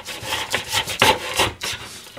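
A kitchen knife slices through a paper milk carton in a series of short rasping cuts, each a brief scraping stroke, close and fairly loud, with no voices.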